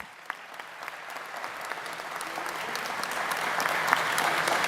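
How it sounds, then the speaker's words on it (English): A crowd at a school convocation claps steadily for cadets, the applause building slightly louder over several seconds and filling a large room. "How about another round of applause for our cadets?"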